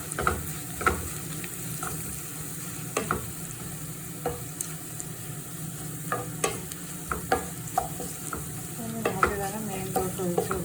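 Masala with chili powder frying for a fish curry, a continuous low sizzle under frequent spoon scrapes and clinks against the pan, close and fairly quiet, no voices.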